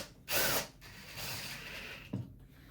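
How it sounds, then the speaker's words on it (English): A drill driver tightens a band clamp in a V-block, giving a short loud burst of whirring, then a quieter softer run and a brief click near the end. "I'm just going to tighten this now with a drill driver"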